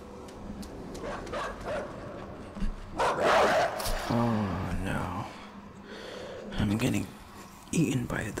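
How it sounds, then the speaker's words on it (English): Dogs barking and snarling in the dark side-scrolling game INSIDE, rising in short agitated bursts amid tense game sounds, with a person whispering over them. "Dogs."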